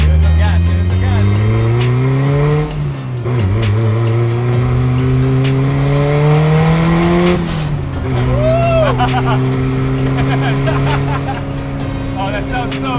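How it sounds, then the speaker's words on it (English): A loud, throaty hot rod with a Honda S2000 VTEC engine revs up and down repeatedly, rising in pitch then dropping, close by, with brief voices in between. "Give it some gas, give it some gas."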